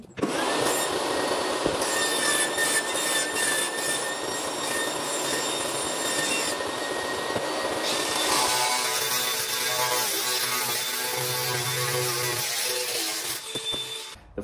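Loud, continuous whine and rasp of a power saw cutting through 4-inch plastic waste pipe, shifting pitch partway through, with no talking.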